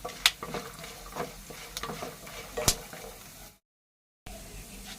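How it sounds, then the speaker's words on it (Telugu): A tempering of peanuts and spices is stirred in a hot frying pan, with a constant sizzle, scattered spatula scrapes and a couple of bright metallic clinks, then a brief silence before the frying resumes. "ఒకసారి మళ్ళా కలబెట్టేసుకోవాలి ఇలాగా"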